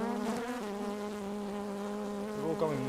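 A dense, close buzzing of many honey bees during removal from a chimney hums continuously, wavering slightly in pitch as they swarm right up against the microphone.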